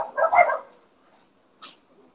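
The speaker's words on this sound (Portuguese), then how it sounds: "Desculpa os cachorros, gente. Eles estão querendo participar da live aqui." Dogs barking indoors during a live broadcast, one burst of several close, loud barks followed by a brief fainter yip.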